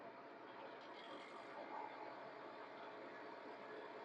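Freeze dryer vacuum pump running during the candy drying stage, a steady mechanical hum with faint rattling texture, even and continuous at moderate distance, no one talking.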